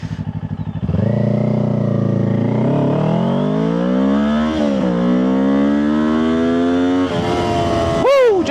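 Kawasaki Ninja 500 motorcycle launches from idle and accelerates hard toward 60 mph, its loud, close engine climbing through several rising revs with gear changes, then a final sharp rev at the end.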